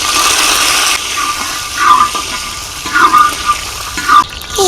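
Curry leaves hit hot coconut oil with mustard seeds, giving a loud, close, continuous sizzling hiss with sharper crackling bursts flaring up every second or so.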